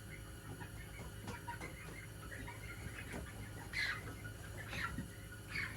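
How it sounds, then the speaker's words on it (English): Soft clucks from a hen sound faintly over a steady low background hum, with a couple of brief louder calls near the end. "And that there I think's a hen"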